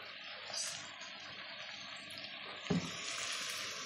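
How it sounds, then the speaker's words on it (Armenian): Green beans frying slowly in a pan, a soft steady sizzle at low volume with one brief knock partway through. "Կամաց տապակում է։"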